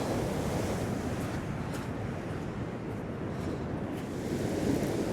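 Sea waves breaking on Shoreham beach, a steady continuous roar of surf close by with wind buffeting the microphone throughout, no voices.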